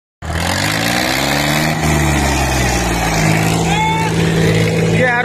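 Sonalika 35 tractor engine runs steadily and loud at a single harrow competition, a continuous close diesel drone with slight pitch shifts as it works, with people talking over it.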